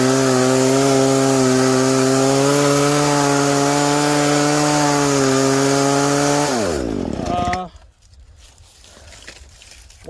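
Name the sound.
chainsaw cutting locust wood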